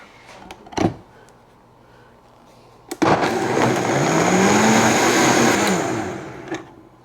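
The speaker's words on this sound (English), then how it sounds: "Make sure your lid is good and secure," A blender liquefies a honey bourbon glaze for game-day wings, roaring loudly and steadily for about four seconds after a couple of brief knocks as the lid is secured, then winding down.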